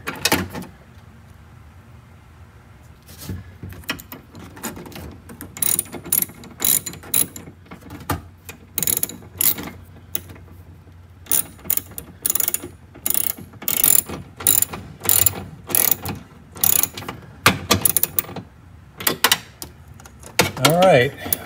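Long stretches of quick ratchet clicking while window regulator bolts are tightened inside the front door of a Ford Escape, close and loud, broken by short pauses and occasional metallic knocks.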